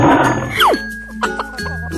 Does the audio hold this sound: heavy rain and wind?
no